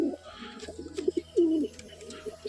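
Jamuni Panja pigeons cooing at close range, a few soft throaty coos in quick succession with small gaps between them and faint background noise.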